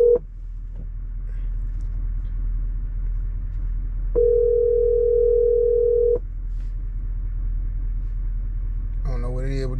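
An unanswered phone call rings through as a steady electronic tone pulsing on and off over a low vehicle rumble, with a voice at the end.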